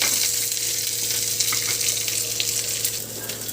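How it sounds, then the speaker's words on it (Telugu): Onions frying in a pan for a mint and peanut chutney, giving a steady, close hiss and sizzle with faint crackles throughout, no voices. "ఇదండి ఉల్లిపాయలు జస్ట్ కలర్ మారే వరకు వేసుకోవాలి."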